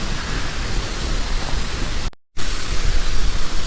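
Waterfall in Iceland, a broad, steady roar of falling water, loud and continuous, with a brief full cut to silence partway through before the rushing resumes.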